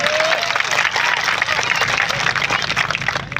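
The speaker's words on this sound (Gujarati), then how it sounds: "એમના માટે જોરદાર તાળીઓ પાડી લો" At a large political rally, the crowd breaks into loud, sustained applause and cheering, a dense, continuous clatter of many hands with faint voices mixed in.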